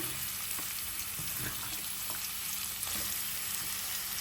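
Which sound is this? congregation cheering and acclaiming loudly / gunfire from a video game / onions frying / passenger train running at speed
onions frying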